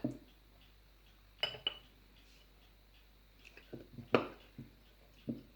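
Sourdough starter being mixed with wholemeal flour in a container: sparse, quiet clinks and knocks of a utensil against the vessel, with soft scraping in between and a hushed background.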